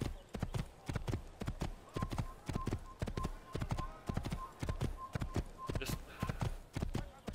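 A white horse gallops in Assassin's Creed, its hooves beating in a steady, repeating rhythm, while a voice talks over it and a brief tonal beep recurs in the middle.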